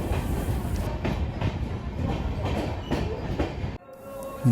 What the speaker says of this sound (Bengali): নিউ ফারাক্কা জাংশনের দুই নাম্বার প্ল্যাটফর্মে আমাদের ট্রেন দাঁড়িয়ে রয়েছে